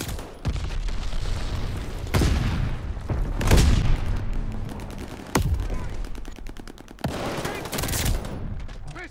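Gunfire in the Call of Duty Vanguard multiplayer shooter: loud bursts of automatic fire and sharp booming shots come in several waves, with rapid rattling volleys between heavier blasts.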